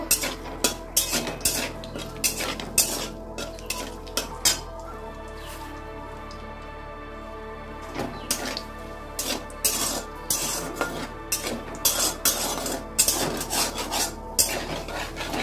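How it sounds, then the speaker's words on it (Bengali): Dry red chili and bay leaves fry as a tempering in a pan for a Bengali jackfruit chicken curry, with a utensil stirring and clinking against the metal in repeated bursts of scrapes and taps over a low background hiss. "এবার আমি ফোড়নটা ভাজা ভাজা করে নেব।"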